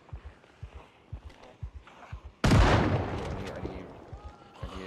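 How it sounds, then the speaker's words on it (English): Gunfire in the zombie survival game Project Zomboid: a loud burst of shots erupts midway and rings out with a long decaying tail, preceded by soft rhythmic footsteps. "Get our guns in, let's go shoot some stuff."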